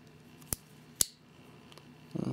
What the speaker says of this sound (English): And here are your scissors.